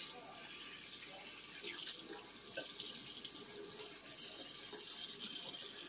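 Tap water runs steadily into a kitchen sink as a pot is rinsed while cooking seafood grits, a continuous close splashing hiss with faint talk and small clatters beneath it.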